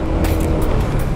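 Cars and a pickup travel around a Honda PCX 160 scooter on a road, a close, rumbling engine and road noise with brief whooshing bursts of air or passing traffic.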